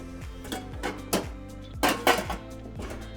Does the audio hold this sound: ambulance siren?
no